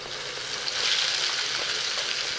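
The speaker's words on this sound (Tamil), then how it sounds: "அது பொரிஞ்சு வந்தவுடனே கொஞ்சம் வெங்காயத்தை போட்டுங்க" Onions hit hot oil with cumin seeds, giving a steady close hiss and crackle that swells slightly, with no voices.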